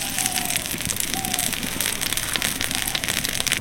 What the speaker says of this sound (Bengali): এবার এই নারকেল পেস্টের মধ্যে দিয়ে দেবো।